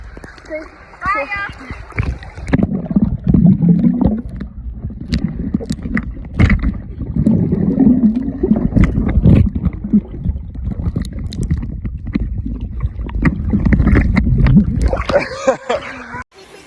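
Splashing water and sloshing from people in a swimming pool, with voices talking and calling out over the continuous wet churn.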